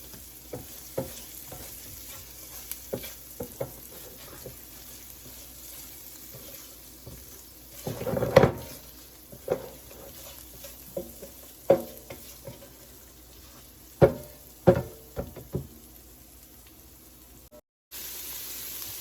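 A vegetable curry sizzles steadily while a rubber spatula scrapes and stirs it in the pan, with irregular knocks and scrapes standing out over a continuous low frying hiss.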